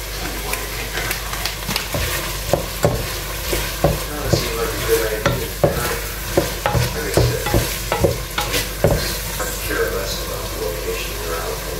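Carrots and vegetables with black pepper sautéing in a pan, steady sizzling under repeated sharp scrapes of a utensil stirring, with talking over it.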